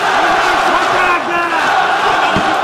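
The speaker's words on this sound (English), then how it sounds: "the St. Petersburg crowd getting behind. They're going crazy, Sean." A packed St. Petersburg crowd at an MMA event cheers and chants wildly, loud and sustained, with bellowing voices rising through the roar and a commentator faintly under it.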